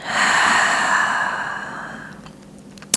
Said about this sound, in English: 1 more, full breath in and a full breath out